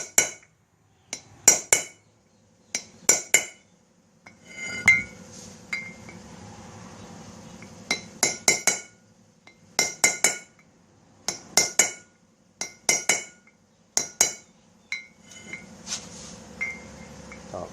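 A steel center punch is hammered around a wheel hub during repair, with sharp metallic clinks falling in quick clusters of two to four strikes, separated by short pauses and some low rumbling handling noise.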